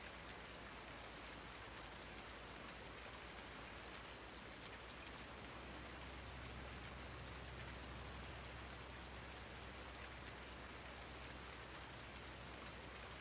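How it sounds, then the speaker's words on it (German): Steady rain patters on surfaces in a farming simulator game, an even hiss of raindrops with no break, fairly quiet throughout. "Da hört man den Regen noch, bevor man ihn sieht."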